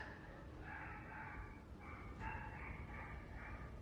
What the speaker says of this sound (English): See, I told you that dog hates me.